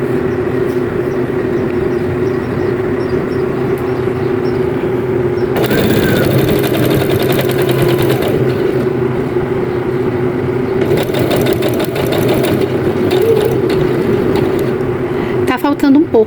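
A sewing machine runs continuously while stitching a fabric baby bag, a loud, dense mechanical whirring that swells in faster passages, with someone talking over it.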